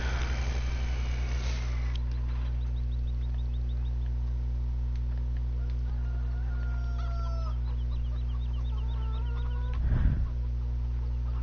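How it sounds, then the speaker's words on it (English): Chickens in Farming Simulator 15 clucking and crowing repeatedly over a steady low engine-like hum, calls rising and falling across the scene with a louder burst near the end, no talking. "Oh, here's chickens."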